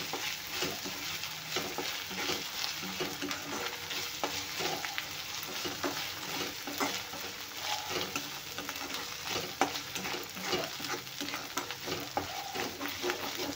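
Ginger garlic paste fries in oil over browned onions, giving a continuous moderate sizzle broken by frequent scraping stirs of a spoon in the pan.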